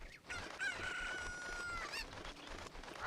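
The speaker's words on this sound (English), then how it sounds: "A singular chicken." A chicken in Zelda Ocarina of Time lets out a long, drawn-out squawking cluck, close and fairly quiet, with a short extra cry near the end and no talking.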